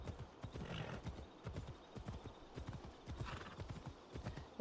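Horse hooves clip-clop steadily in the Assassin's Creed Odyssey video game, a quick regular rhythm of soft thuds at moderate distance, faint and continuous with no talk over it.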